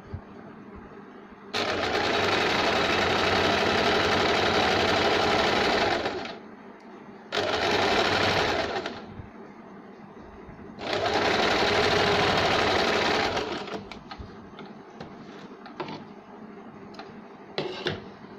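A sewing machine stitches a saree blouse with lining in three long loud runs separated by short pauses, followed by light handling clicks and taps.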